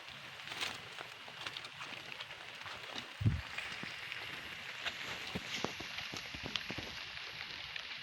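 Rain falls in a forest during mushroom foraging, a faint continuous patter of drops with scattered sharper taps and one brief louder thump.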